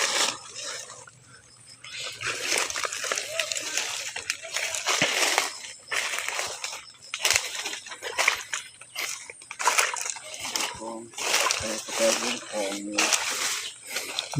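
Wading and splashing through flood water while hunting for insects, with continuous loud sloshing and splashes close by and voices talking over the water noise throughout.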